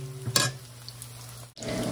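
Salmon burger patties frying in a pan: a quiet, steady sizzle heard up close, with a brief louder crackle early on and a short dropout near the end, no voices.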